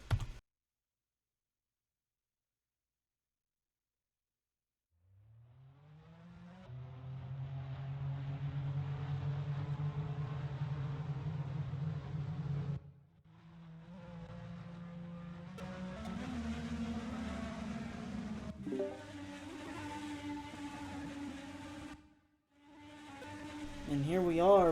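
IndyCar race cars at Road Atlanta in a racing video game, engines droning steadily after a silent opening, pitch rising and shifting through gear changes with brief drops, while a voice talks over the sustained engine noise.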